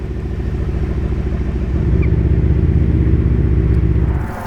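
A matte blue Lamborghini Urus S with orange calipers drives past with a deep, close engine rumble that swells louder midway, holds, then eases off, with no talking.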